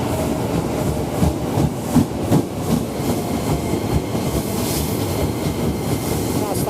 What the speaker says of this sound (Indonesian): ini KRL ke Bogor. Nah, ini rangkaian 8 kereta ya.